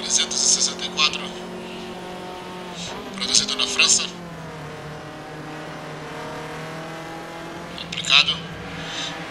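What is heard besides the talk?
Alpine A364 Formula 2 race car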